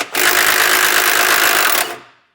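A socket wrench or impact tool runs bolts out of the front bumper on a 2024 Jeep Wrangler, giving one loud, steady mechanical whir close by that holds for nearly two seconds before cutting off.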